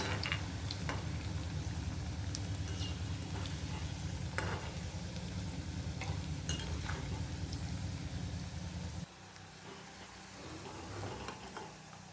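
Dal batti frying in ghee over a low gas flame gives a steady, close, dense sizzle that drops noticeably quieter near the end, with no talking.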